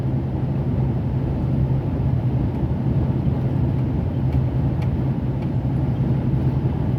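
Car driving along the A7 motorway toward Marseille, a steady low engine drone and road rumble from inside the cabin, constant and unbroken throughout.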